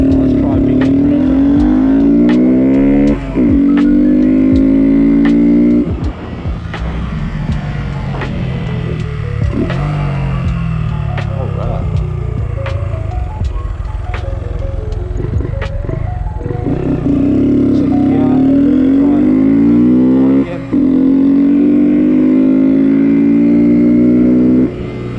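Honda GROM motorcycle engine revving hard in repeated bursts during wheelie practice, loud and close, with rising and falling pitch and brief drops between runs; people talk and exclaim over it.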